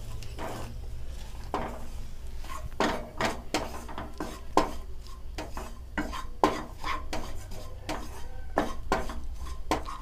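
Garlic, black pepper and wheat flour being sautéed in a pan for tomato soup, with a spatula scraping and clinking against the metal in a steady, uneven rhythm over a low background hum.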